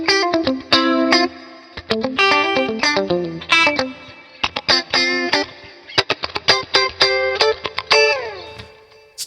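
Guitar played through the Archetype Misha Mansoor plugin with an 80s-style chorus tone, picking short single-note lines and chord stabs in choppy bursts with gaps between, shimmering and effected, close and prominent, no talking.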